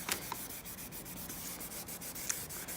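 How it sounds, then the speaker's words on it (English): Dried leather seal filler being sanded by hand, a steady close scratchy rubbing with rhythmic strokes and a few small clicks, no voices. "You can sand it without it tearing."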